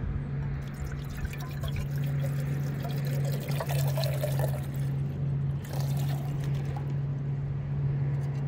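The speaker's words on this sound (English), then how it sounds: "Then fill your pot with water." Water runs steadily into a camping pot for several seconds, a continuous pouring splash over a low steady hum, close and fairly loud.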